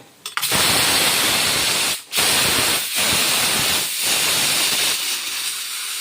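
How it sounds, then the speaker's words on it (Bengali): Steam hisses loudly and steadily from a pressure cooker as it is released after cooking ghugni, a broad continuous rush with a few brief breaks, heard alone. "নামিয়ে দিয়ে গ্যাসটা বের করে দেব"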